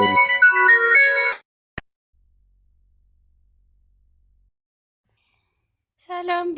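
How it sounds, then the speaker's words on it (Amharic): A phone ringtone plays a bright, melodic run of tones for about a second, stops, then starts up again near the end after a long silence broken by one sharp click. "ስልክ"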